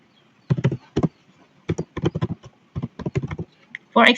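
Typing on a computer keyboard, heard as quick bursts of close, clicky keystrokes separated by short pauses, ending in a denser flurry of taps.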